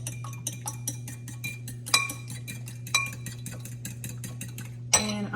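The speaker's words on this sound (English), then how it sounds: "I have 2 eggs in this bowl that I'm going to whisk up." Two eggs whisked in a bowl, a quick regular metallic clinking of the whisk against the bowl over a steady low kitchen hum, with a few louder knocks.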